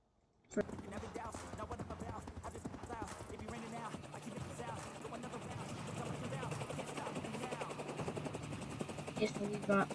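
Countryball zombie invasion animation: a helicopter's rotor chop with bursts of machine-gun fire and clattering, dense and continuous, with voices talking over it.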